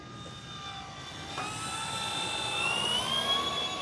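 An E-flite T-28 Trojan V2 electric RC airplane with a 1.2 m wingspan flying at low throttle with takeoff flaps near a tree line, giving a steady whining motor drone whose pitch slowly rises.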